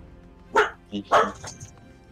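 A dog lets out two or three sharp, loud barks in quick succession at close range, followed by a brief softer yip.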